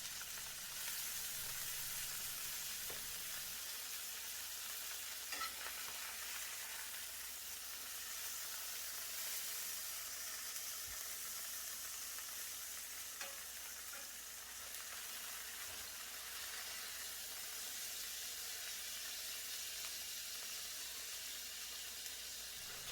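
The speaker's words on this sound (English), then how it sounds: "throw some butter on them, and continue cooking for another 4 minutes" Steak searing in butter in a hot skillet over a flame gives a steady, dense sizzle and hiss that runs without a break, fairly close and even in level, with no talking.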